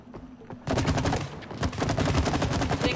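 Rapid sustained video game gunfire in It Takes Two sounds as a dense, loud stream of shots that starts after a moment of quieter background and keeps firing to the end.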